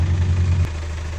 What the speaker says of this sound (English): The engine is running the first time.